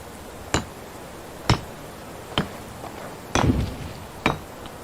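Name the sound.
hammer hitting a horse's head in video game Medieval Dynasty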